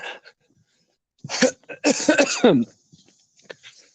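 A few harsh, raspy bursts close to the listener, like someone coughing and clearing their throat, separated by short silences.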